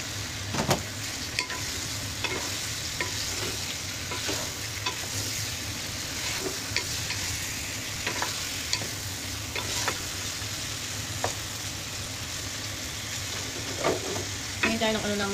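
Chicken wings with ginger fry in a pan, sizzling in a constant crackling hiss, broken by sharp ticks and clinks of utensils against the pan throughout.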